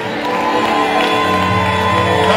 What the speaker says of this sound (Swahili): Mpige Bwana Yesu kelele za shangwe.